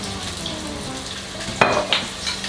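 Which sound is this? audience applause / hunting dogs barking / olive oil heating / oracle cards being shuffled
olive oil heating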